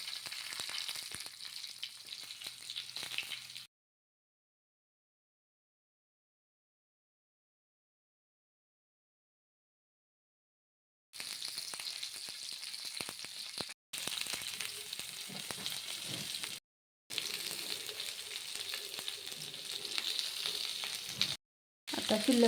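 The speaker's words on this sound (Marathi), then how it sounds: "आणि आपण जी भरून घेतलेली भेंडी आहे ती एक एक त्याच्यामध्ये सोडायची आहे." Stuffed okra (bhindi) fries in oil with mustard seeds and cumin, a steady close sizzle and crackle. It cuts out into a long silence, then returns in several bursts separated by brief gaps.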